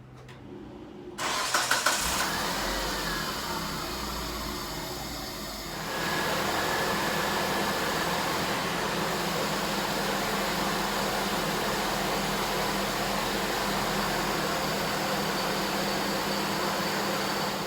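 A car engine cranks and catches, surges briefly, then drops and settles into a steady, even idle for a long stretch, recorded close by.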